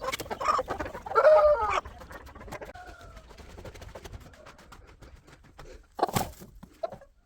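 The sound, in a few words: broody hen clucking while placed on eggs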